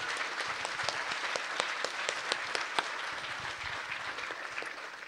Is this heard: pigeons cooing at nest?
no